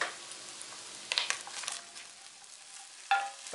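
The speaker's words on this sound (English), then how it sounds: "Stir it around over a high heat." Chopped onion sizzles and is stirred in a pan over high heat, giving a soft, steady frying hiss. Utensil scrapes and stirring bursts come and go close by.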